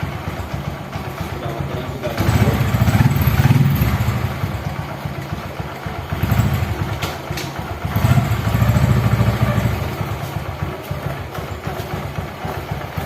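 A motorcycle engine idling loudly just after starting, with a steady chugging putter that swells in a few short revs, the rear wheel spinning, while someone talks over it.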